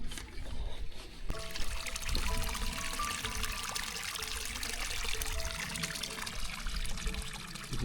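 Water trickles steadily through a reed-lined pond, pumped around by solar power, a soft continuous pour heard up close at a low level with no voices.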